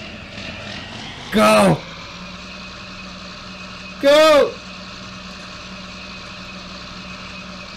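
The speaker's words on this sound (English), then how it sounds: "Yeah, we did it. We got the tractor out." Tractor engine hauling out of mud on a storm-hit farm, a steady low drone running throughout, broken twice by loud shouted voices.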